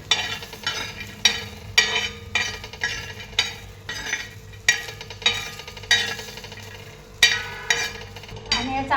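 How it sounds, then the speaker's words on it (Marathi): Charoli seeds are dry-roasted on a tawa over a low gas flame. A spatula scrapes and stirs them in a steady rhythm of roughly one stroke per second, with a faint rattle of seeds between strokes. "बारीक गॅसवरच कणी असं भाजून घ्यायचं तव्यामध्ये"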